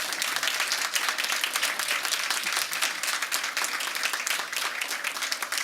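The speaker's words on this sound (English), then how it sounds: "Please join me in a round of applause for Ms. Marilyn Garcia." A roomful of people applauds an honoree at a Santa Barbara Unified school board meeting: dense, continuous, fairly loud clapping for nearly six seconds, with no voices on top.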